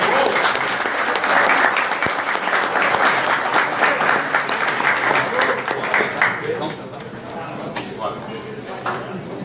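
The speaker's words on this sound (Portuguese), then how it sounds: "Vamos receber com uma salva de palmas" An audience at an evening political talk bursts into sustained, loud applause with dense clapping that carries on steadily before gradually thinning out.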